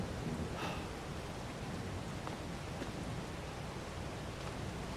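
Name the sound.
rain in the video game Farming Simulator 22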